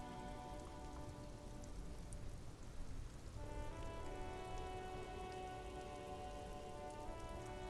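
Steady rain patters in the video game Disco Elysium, a faint, even wash of falling drops that continues throughout beneath a low musical drone.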